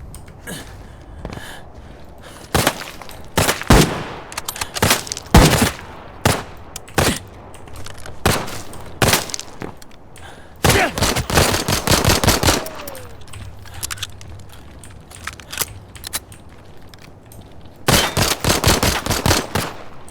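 Automatic gunfire in the video game Arena Breakout Infinite, with repeated bursts of sharp, loud shots in clusters and short pauses between them, spread across the whole stretch.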